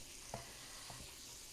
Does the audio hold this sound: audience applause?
no